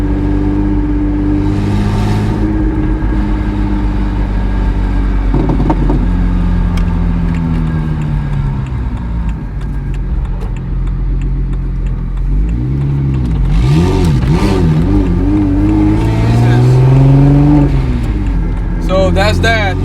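BMW 135i with an N54 engine converted to a single turbo, with a hood exit, revving loudly on a first drive, its engine note rising and falling in bursts throughout while a voice talks over it.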